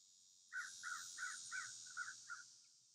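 A crow caws six times in a steady run of hoarse calls, somewhat distant and faint against a constant background hiss.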